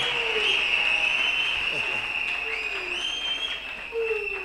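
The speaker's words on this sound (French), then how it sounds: "Acclamons très bien notre Dieu." A church congregation clapping steadily and loudly together, continuous dense applause with a sustained tone running through it, probably singing or voices mixed underneath.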